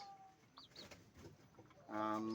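A three-month-old Raptor Sweater cross gamefowl rooster gives a few short high chirps, then breaks into a loud, harmonic crow near the end. The bird is fairly close, and no one speaks.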